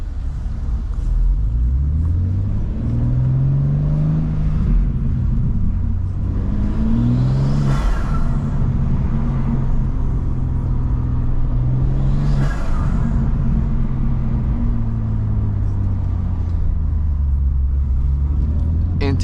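A BMW M2 accelerates hard, its intake roaring with a deep, swelling drone that rises and falls through several gear changes, loud and continuous from inside the car, with a couple of brief whooshes of passing traffic.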